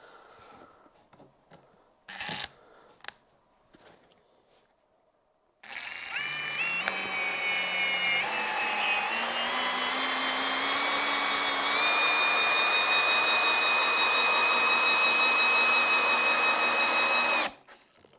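A Parkside PSBSAP 20 Li B2 cordless impact drill, set in first gear, drives a screw into wood. A few short clicks and bursts come first, then a loud, steady whirring rise in pitch lasts about twelve seconds before cutting off abruptly.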